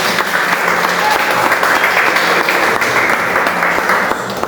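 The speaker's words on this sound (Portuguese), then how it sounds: "Você pode aplaudir o nome do Senhor Jesus bem forte." A congregation at a church service held in a garage claps loudly and steadily, a dense burst of close applause lasting a few seconds.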